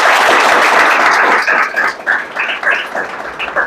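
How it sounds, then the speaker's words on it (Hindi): An audience at a mock interview orientation class claps loudly in welcome for a guest, with dense applause that thins into scattered claps and murmuring toward the end. "तालियां बजाएंगे एक बार।"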